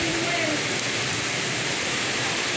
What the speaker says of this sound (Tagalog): So grabing sipag ng ulan na to,